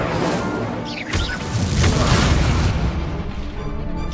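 The Incendio fire spell goes off in the Hogwarts Legacy video game as a loud, sustained burst of roaring, crackling flame and booming impact noise that fills the whole moment.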